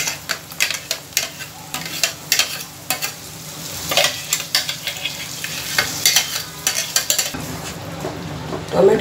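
Tomato puree and masala sautéed in a kadhai for kadhai chicken, repeated spatula scrapes and clinks against the metal over a bubbling sizzle, close and uneven in rhythm, no one speaking.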